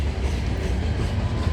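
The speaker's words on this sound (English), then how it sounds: "Symbol on this train is CNB 730." A CN freight train rolls past at night on the York Subdivision near Milepost 23, giving a loud, continuous low rumble and rolling wheel noise heard close, with no talk.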